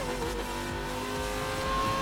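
A car's engine hums steadily as it drives in the racing game Need for Speed Most Wanted, a continuous mid-volume drone with faint tire noise and no talk.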